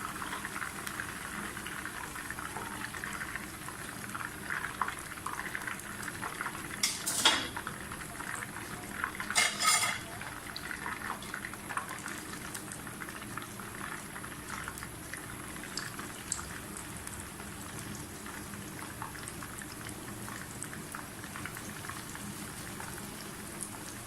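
Chicken frying in ghee in a pan for a crispy fry, a steady low sizzle and bubbling throughout, with a couple of brief louder spatters partway through, no talking.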